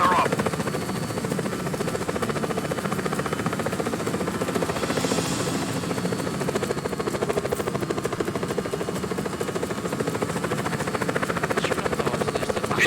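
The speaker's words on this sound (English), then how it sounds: "Helicopter inbound. Heading to AO." Helicopter approaching in the action video game Just Cause 4, a loud, steady rotor roar filling the whole stretch, with voices talking over it.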